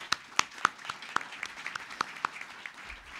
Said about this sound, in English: how about a round of applause for our first panel?